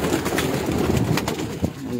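Rooftop Shahzada breed pigeon giving close, fairly loud rolling coos in quick succession against a constant low rumble.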